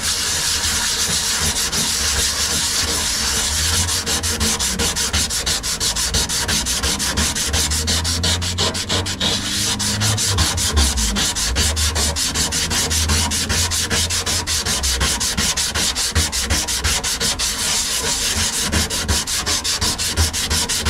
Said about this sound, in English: get a bit of this sandpaper,